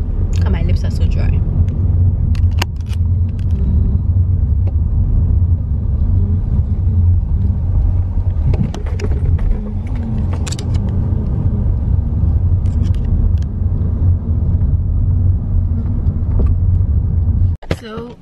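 A car drives through traffic in Medina, heard from inside as a steady, loud, low rumble of engine and road noise, with some faint voice-like sounds mixed in.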